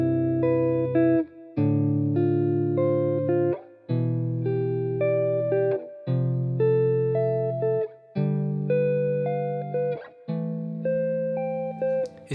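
Clean guitar plays drop 2 chords slowly up a harmonized major scale, six sustained chords each struck once and left ringing, separated by short gaps, quiet and alone.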